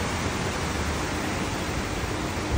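Heavy rain from Cyclone Remal pours steadily onto an apartment balcony, a dense, unbroken hiss that stays loud and even throughout.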